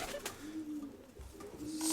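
A mated homing pigeon coos softly in a loft, a few low calls amid faint background noise.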